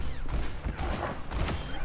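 Rapid gunfire in Overwatch 2, a zombie Torbjörn mode: dense, close bursts of shots overlapping with mechanical clatter and ricochet-like pings, continuous for the whole short stretch.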